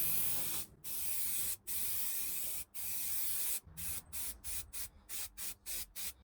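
An aerosol can sprays paint onto a plastic car bump strip: long continuous hissing bursts at first, then a quick run of short, evenly spaced puffs, close and loud with no talking.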